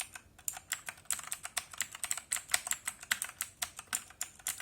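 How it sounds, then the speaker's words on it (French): Typing on an Amazon Basics gaming keyboard with Outemu Blue switches, a fast run of sharp, clicky keystrokes at a steady pace, fairly close but quiet, with no voices. "c'est les switches Utemo Blue, qui sont juste horribles d'un point de vue sonore et frappe"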